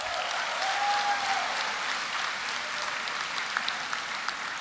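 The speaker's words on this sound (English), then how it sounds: "I'll give them applause." Steady applause from a large convocation audience, even and sustained throughout, heard from a distance with a faint whistle early on.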